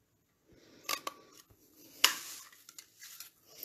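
A small scrap of paper is punched with a pennant punch while making a simple flap mini album, giving a few quiet, crisp snips and a sharper clack close by, with no talking.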